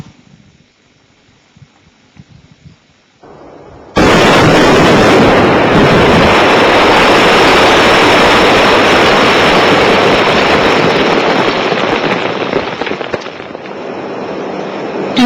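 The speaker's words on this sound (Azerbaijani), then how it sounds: "Filizi əldə etmək üçün mədən əməkdaşları tərəfindən əvvəlcə dağ suxurları partladılır" Rock blasting at a gold mine in Gədəbəy: after a few seconds of quiet, a sudden loud explosion erupts into a sustained, roaring rumble of falling debris that slowly tapers off.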